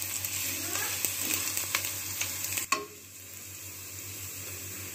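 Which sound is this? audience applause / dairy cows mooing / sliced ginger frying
sliced ginger frying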